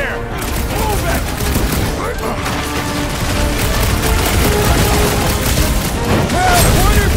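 Dense, continuous video-game gunfire from Guardians of the Galaxy: rapid overlapping shots and bursts that keep up for the whole stretch, loud and busy with a cluttered battle mix behind them.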